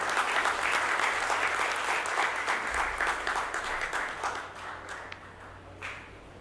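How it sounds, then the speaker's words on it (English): Audience applause fills a large hall at a session for junior advocates, dense and loud at first, then thinning and fading toward the end as the clapping dies away. "shall we begin this with a loud applause so that we fill this hall with an energy?"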